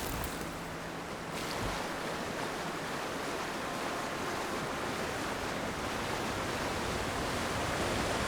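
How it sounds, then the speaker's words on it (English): A waterfall in the fantasy video game Avowed gives off a steady, dense rushing roar that fills the whole stretch without letup, with no talking. "let's go check behind the waterfall real quick"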